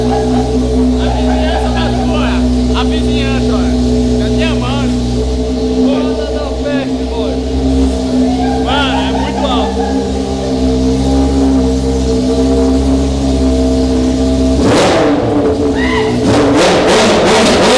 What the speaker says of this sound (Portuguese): Liga aí. Liga todas as motos.